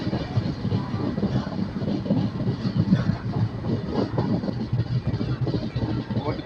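Inside a train pulling into Mudkhed Junction, a continuous low rumble of rolling wheels and carriage noise fills the scene, with a person talking over it.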